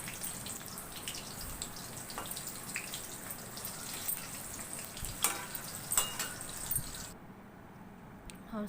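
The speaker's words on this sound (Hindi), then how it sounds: "तो मैं प्याज के पकौड़े बना रही थी।" Onion pakoras made with gram flour batter frying in oil in a kadhai, a steady close crackling sizzle with scattered pops that fades toward the end, no talk.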